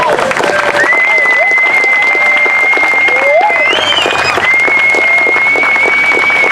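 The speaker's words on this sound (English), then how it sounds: "Give him a round of applause." A crowd claps steadily throughout for a warrior introduced at a spiritual gathering, with a tonal whistle or sustained note running over the dense applause.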